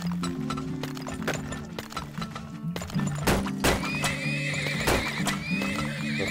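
Horses in the video game Turmoil neigh and whinny repeatedly over a steady clip-clop of hooves, with several loud calls rising above a busy game background.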